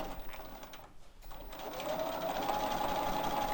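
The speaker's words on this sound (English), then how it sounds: "now we're ready to go ahead and just stitch along this edge again and go over to the next corner" Sewing machine stitching along the edge of a quilt-as-you-go block, a fairly quiet steady whirring hum that briefly dips, then runs continuously and a little louder.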